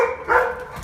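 Dogs at a door during a parcel delivery give a short, close, loud bark with a brief yelp, alone with no talking.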